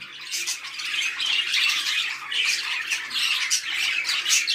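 A male cage bird in a breeding pair squawks repeatedly to its mate, harsh close calls coming in quick irregular bursts with no talk.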